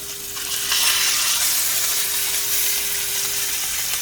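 Pork chops sear in a hot cast iron pan with a loud, steady sizzle and crackle, close up and continuous, with no talking.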